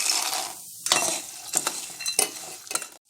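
Urad dal, chana dal and peanuts frying in hot oil: a light sizzle broken by sharp scrapes and clinks of a spoon against the pan, several quick strokes, then a brief drop to near silence at the end.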